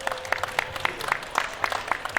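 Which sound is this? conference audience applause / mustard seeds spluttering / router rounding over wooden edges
conference audience applause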